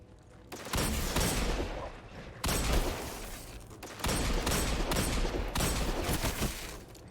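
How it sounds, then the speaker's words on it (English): An enemy champion in Destiny 2 fires rapid volleys of gunshots in three dense bursts, each lasting over a second with short gaps between, loud and close with no voices. "You hear the number of shots coming from him."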